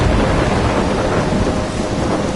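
Heavy rain and rolling thunder from a storm in the video game Life is Strange, a loud, dense, continuous roar of downpour with deep rumbling underneath, no voices.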